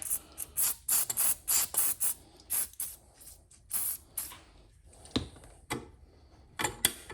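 A tool cutting into metal with lubricant during a Royal Enfield Bullet sidecar fender repair, giving repeated short bursts of back-and-forth grinding with brief pauses, close and fairly loud.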